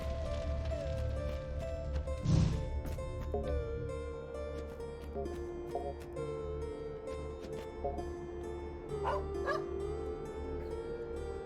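Robot dogs in the video game Narita Boy bark in short electronic yips over a continuous droning game soundtrack, one louder burst standing out early and fainter yelps later.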